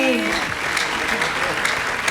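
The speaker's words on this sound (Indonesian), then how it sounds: "Tepuk tangan untuk Tasya." Studio audience applause for Tasya on an Indonesian TV variety show, a steady dense clapping that fills the short clip with some voices mixed in underneath.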